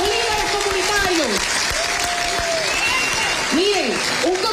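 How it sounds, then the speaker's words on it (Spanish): Audience applause for a neighborhood council and community leaders at a community gathering, a dense, steady roar of clapping for the whole stretch, with voices and shouts rising over it. "un aplauso para la Junta de Vecinos y los líderes comunitarios."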